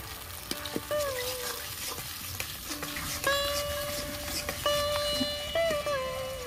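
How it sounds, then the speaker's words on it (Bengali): Spices for a katla fish curry fry in oil in a pan while a spoon stirs and scrapes, a steady sizzle broken by clinks and a few tonal squeaks, moderately loud and without talking. "এখন মশলাগুলো আমি ভালো করে কষিয়ে নেব।"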